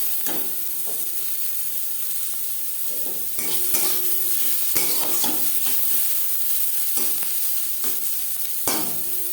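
Carrots and capsicum frying in a pan for spicy egg pasta, giving a steady close sizzle broken by repeated scraping stirs of the spoon, with no voices.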